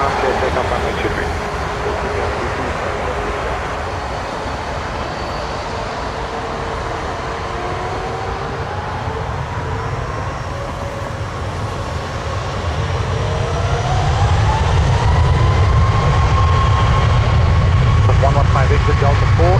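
A jet airliner takes off from Toronto Pearson airport, a loud broad engine roar heard from a distance that swells toward the end, with radio chatter from air traffic control running over it.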